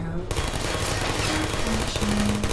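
Turrets in the video game Portal fire steady, rapid rattling volleys, close and continuous for a couple of seconds.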